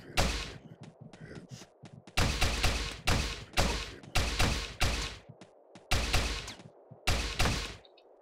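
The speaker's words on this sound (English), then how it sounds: "Nail gun." A nail gun firing in Teleglitch, loud close bursts of rapid rattling shots in about seven short volleys with brief quiet gaps between them.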